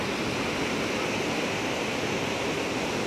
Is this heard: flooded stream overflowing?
yes